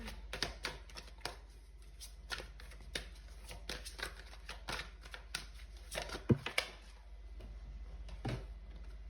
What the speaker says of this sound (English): I'm just gonna pull one more card.